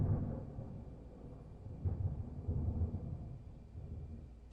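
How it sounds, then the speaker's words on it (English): Thunder rumbles low and deep during a snowstorm in the video game Deadly Premonition 2, a soft rolling swell that builds midway and fades out again, heard alone without talk. "Thunder snow is coming."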